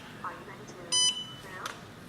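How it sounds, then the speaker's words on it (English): A Dragonlink V3 Slim RC transmitter gives a short electronic beep, a steady tonal burst near the middle, with a fainter chirp shortly after, quiet in a room with faint background noise. "2 beeps, it flashes, it's in a bind position."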